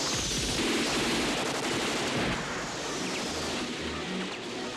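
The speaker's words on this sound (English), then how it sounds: "the Luna Park one where the guys are all going down the slide, shooting machine guns" Sustained machine gun fire from a movie action scene, men shooting while riding down a slide at Luna Park; dense, continuous loud bursts with booming low rumble throughout, no pauses.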